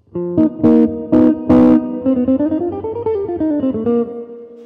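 A quick bebop-style ii-V7 jazz lick at fast tempo played on a single melodic instrument, several sharp accented notes followed by a fast run of smoothly shifting pitches, clear and close.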